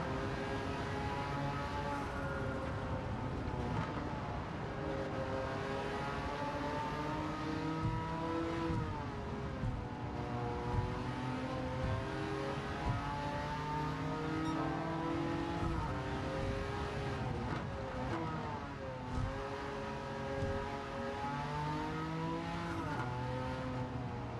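A Porsche 959 race car engine in Gran Turismo 7 on the Tokyo Expressway, droning loudly and steadily through the whole stretch, its pitch rising and falling with gear changes and throttle, with no talking.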